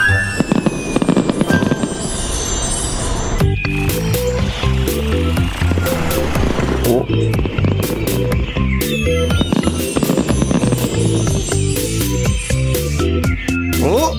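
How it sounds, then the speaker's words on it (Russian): Cartoon fireworks burst repeatedly in a loud, rapid series of bangs and crackles over a busy animated soundtrack about city cars. "Смотри, Карл, фейерверк!"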